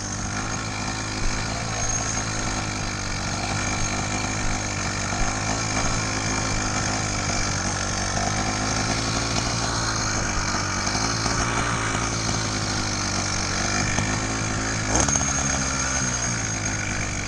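A small two-stroke engine on a motorized bicycle runs steadily after starting, a loud, buzzing, raspy drone that holds a constant idle throughout with a brief clunk near the end.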